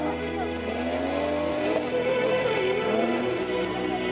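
Peugeot 306 stock cars race at a Saint-Junien meet, engines droning and shifting pitch as they pass, with tires scrubbing; the sound is continuous and moderately distant, crowd ambience underneath.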